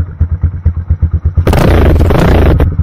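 A Loncin GP 250 motorcycle with a delay muffler idles with a steady, lumpy exhaust pulse, then the throttle opens into a loud, roaring rev through the muffler that holds for about a second.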